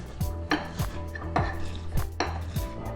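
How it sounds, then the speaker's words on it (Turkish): A wooden pestle pounds pomegranate halves to press out juice for grenadine syrup. Sharp knocks and clatter fall at a steady rhythm of roughly two per second, close and fairly loud, with no talking. "Böyle bir tokmak yardımıyla narın suyunu çıkarıyorum."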